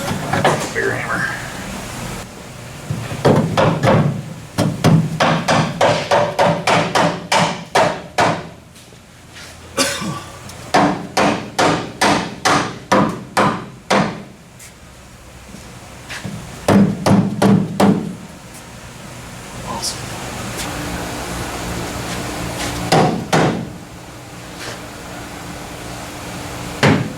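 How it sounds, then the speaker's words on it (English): Loud, close metal-on-metal hammer blows ring out in rapid rhythmic runs of a dozen or more strikes while an anti-roll bar is driven into place on an S10 street truck, with pauses and voices talking between bursts. "Bigger hammer."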